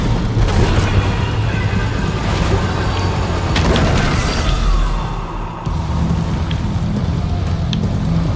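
Grenade launcher blasts in a video game, a dense, loud barrage of booming explosions and crackling debris rumbling continuously, with a sharp drop-off and a fresh burst near the middle.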